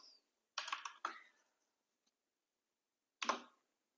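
A computer keyboard is typed on in short bursts, a quick cluster of keystrokes, another brief run, then a lone clack after a pause, all close and quiet with no voices.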